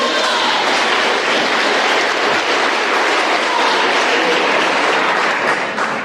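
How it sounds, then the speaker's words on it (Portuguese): Dense, loud applause from a large church congregation fills the whole stretch, a steady unbroken roar of clapping hands. "Pode aplaudir, faz um barulho"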